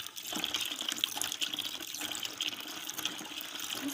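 Water pours and splashes steadily into a bucket while liquid soap is being made, a continuous close, bubbling stream with small fluctuations and no talk.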